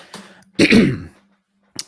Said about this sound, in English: you can see how many times I clear my throat